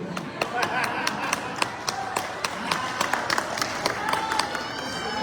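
Audience at a religious lecture in Jeddah, Saudi Arabia, clapping in scattered, irregular claps rather than full applause, under a speaker's voice.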